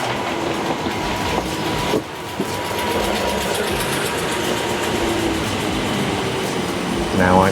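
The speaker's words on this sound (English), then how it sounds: "But our train's here now, 2 455s." Two coupled Class 455 electric multiple units on the Chessington branch rumble nearby with a steady rolling clatter, sharp rail clicks and a rising electric whine at the end, a voice speaking faintly underneath.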